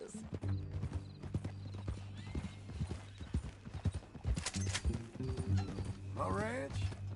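Steady clip-clopping hooves with a horse whinny near the end, under a low rumbling bed and some talk, in the video game Red Dead Redemption.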